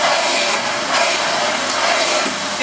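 Vacuum cleaner running on rugs indoors, a loud, steady airy roar that holds for the whole stretch with slight swells.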